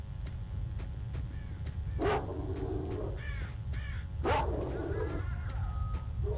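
Dogs barking in the video game S.T.A.L.K.E.R.: Shadow of Chernobyl, two sharp bursts a couple of seconds apart over a steady low rumble of ambient noise, with no talk.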